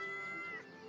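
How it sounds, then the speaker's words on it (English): A cat meows inside a video game, a single drawn-out tonal call that rings clearly and fairly loud across the whole short moment. "in this game, you can pet the cat."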